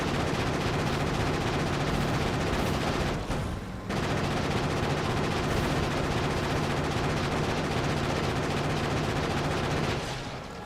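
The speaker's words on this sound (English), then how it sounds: "Give them my grenades. Just throw the grenades." Grenades exploding in combat in the video game Factorio Space Age, a dense, loud, continuous barrage of blasts and gunfire-like bursts with a short dip partway through, no talking.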